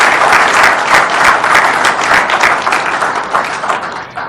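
A large audience applauds at a formal political address, with dense, sustained clapping that stays loud and even before easing slightly at the end, with no talk over it.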